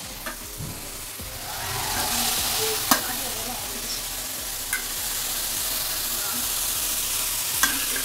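Ground tomato hits onions already frying in a pan for Tamil egg kuzhambu, giving a steady broad sizzle with a few sharp clicks of a spoon against the pan.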